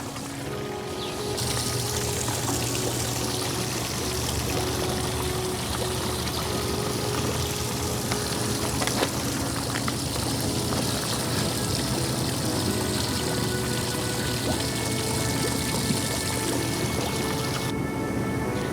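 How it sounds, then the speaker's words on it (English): Tap water pours steadily into a newly built garden pond, a continuous broadband rush and splash that holds constant throughout with no speech. "As we fill the pond with tap water"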